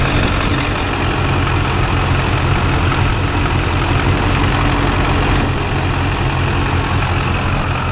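A 2001 Chevy Silverado 3500 dually with a 6.6L LB7 Duramax diesel idling, a loud, close, steady low rumble with a dense rattling clatter that stays even for the whole stretch.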